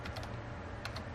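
Computer keys are tapped in two quick pairs of clicks, one at the start and one near the end, with a quiet pause between them and low background noise.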